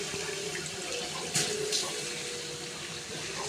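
Rice being washed for khichuri under a steady stream of running tap water, close and continuous, with a brief louder splash partway through.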